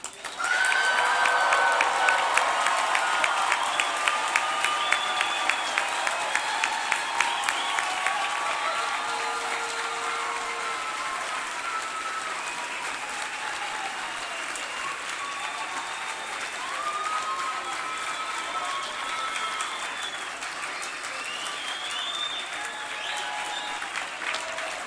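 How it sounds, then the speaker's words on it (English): A convocation audience breaks into thunderous applause, sustained dense clapping that starts loud and keeps going for many seconds with scattered cheers. "there would be a moment for truly thunderous applause"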